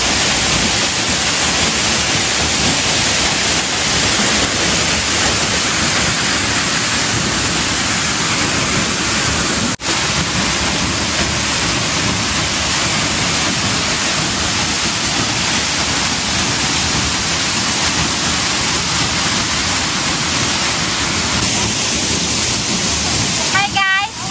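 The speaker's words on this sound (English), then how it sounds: "If you want to come here, just visit this waterfall." Ng Tung Chai waterfall on Tai Mo Shan in Hong Kong pours steadily, a broad, unbroken roar of falling water that fills the whole stretch at close range.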